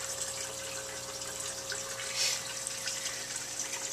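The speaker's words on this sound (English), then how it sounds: "What we're doing is pumping out of there, coming up into this half inch tubing." Water is pumped up through half-inch tubing and split three ways to feed Dutch bucket aquaponics lines, making a steady, continuous rushing flow with a faint constant hum beneath it.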